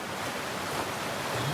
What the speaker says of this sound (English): Really nice. A lot of water coming down.